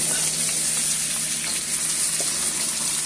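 Red snapper fillet sizzling and frying in a hot pan just after being flipped, a steady close hiss with faint crackles running throughout, no voices.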